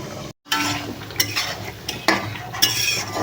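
Meat for a gravy is stirred in a metal pot, with scraping utensil strokes and clinks at irregular intervals over a low cooking hiss, close by after a brief silent gap.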